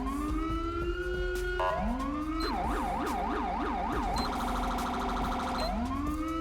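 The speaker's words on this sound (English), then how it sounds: "Seems our siren is working with the rumble sound." A police siren on a modded emergency vehicle in FiveM, wailing up and down and then switching to a fast yelp pattern before returning to the wail, loud and close with a low rumble underneath.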